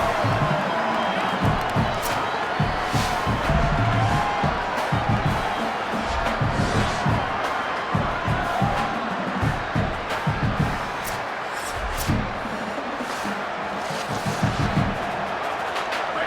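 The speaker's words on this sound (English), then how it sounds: "this crowd trying to give its defensive energy in a clutch spot" Stadium crowd in a college football video game, Oklahoma Sooners at Washington, a dense continuous roar of cheering and shouting with scattered claps and whoops, loud and unbroken throughout.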